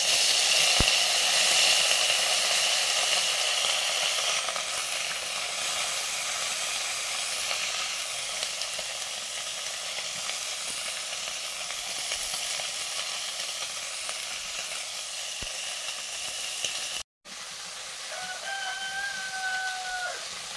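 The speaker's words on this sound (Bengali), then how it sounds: "মাছগুলো মোরলা মাছগুলো ভেজে নেব" Small mourola fish frying in mustard oil, a continuous loud sizzle and crackle close by that runs almost unbroken, with a brief cut and a rooster crowing faintly in the background near the end.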